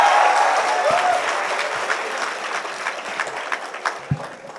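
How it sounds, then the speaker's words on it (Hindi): A poetry event audience claps, a loud burst of dense applause that thins out into scattered individual claps as it fades. "ताली ठीक से बजाओ एक साथ मिला के"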